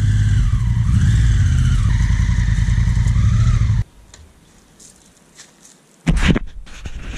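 A motorcycle engine runs loudly and steadily for a few seconds in a garden, then cuts off to near quiet, followed by brief clattering and scraping sounds.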